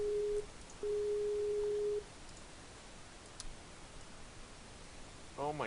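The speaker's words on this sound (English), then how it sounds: "my iPad is ringing." A Skype call rings on an iPad as two steady electronic tones, one short and one longer, followed by near silence and a few faint clicks at the end.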